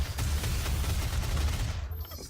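Rapid gunfire in the video game DOOM, a dense continuous barrage of shots rattling loudly for about two seconds before cutting off abruptly, with no talk over it.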